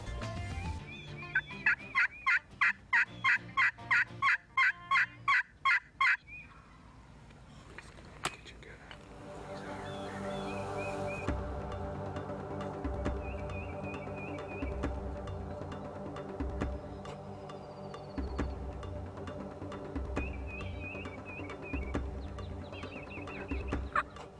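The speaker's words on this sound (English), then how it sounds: "We hear a lot of turkeys all around us." Wild turkeys gobble loudly in rapid rattling bursts, then hens cluck and gobbles repeat at a distance over a steady background drone outdoors.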